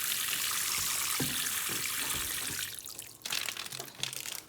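Water pours steadily onto an indoor potted fruiting plant, a soft hiss that breaks into splashing and trickling onto the floor, with a few light knocks toward the end.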